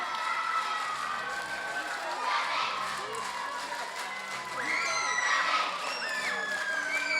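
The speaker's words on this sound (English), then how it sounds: "Classic chant here, classic chant. Wonderful chanting." A home crowd chants at the NatWest Island Games opening ceremony, a broad, steady roar of massed voices with rising shouts and whistles, continuous and fairly distant.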